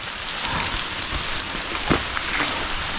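Steady rain pattering on a mountain hiking trail on Mount Tampomas in Sumedang, a dense, constant hiss of drops loud and close throughout, with a few sharper splashes standing out.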